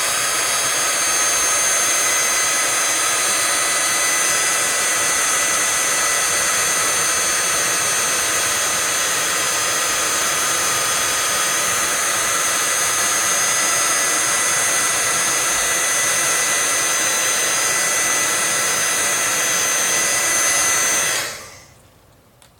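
A craft embossing heat tool that holds heat to 500 degrees blows hot air in a loud, steady roar, unbroken for about twenty seconds before cutting off abruptly at the end.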